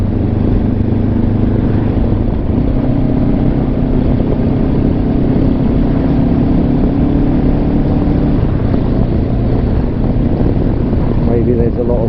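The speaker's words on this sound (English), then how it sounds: "Maybe you can hear the engine nicely" Motorcycle engine droning steadily while riding, with constant wind rushing across a lavalier microphone; the engine hum stays close and continuous throughout.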